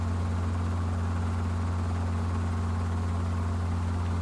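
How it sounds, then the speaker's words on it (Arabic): An aircraft passes overhead as a steady, loud, droning engine hum with a strong low tonal throb and a broad rushing wash, constant throughout with no voices. "هو جايب طيارة ولا ايه؟"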